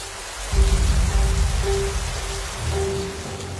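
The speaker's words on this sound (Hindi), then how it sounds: "तभी बारिश और तेज हुई" Heavy rain pours down steadily, with a dense low rumble and a constant wash of drops close by.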